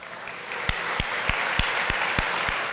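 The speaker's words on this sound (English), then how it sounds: "let's give them a round of applause" An audience at a State of the City address in Stockton applauds port workers, with dense clapping filling the room and a series of evenly spaced low thumps running beneath it.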